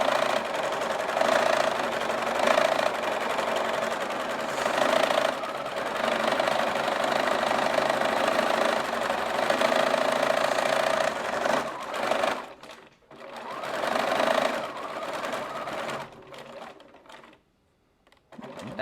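Sewing machine stitching a fabric grocery bag, a steady close whirring run with a fast mechanical patter that lasts most of the stretch, then stops and starts in brief bursts near the end.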